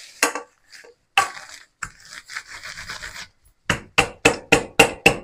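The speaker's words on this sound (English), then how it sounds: "I'm going to take a rolling pin. And I'm going to beat them up." Girl Scout cookies are crushed with a rolling pin, making a series of dry, crunchy rasping strokes. A few scattered scrapes come first, then five loud, evenly spaced crunches.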